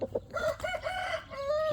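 A rooster, a Thai Lan Saen Kon breeding cock with damaged wings, crows in a drawn-out, wavering call, fairly close and moderately loud, with no talking over it.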